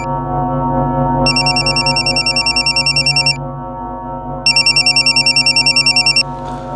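A telephone rings indoors with two loud bursts of rapid electronic trilling bell tones separated by a short pause, over a steady background musical drone.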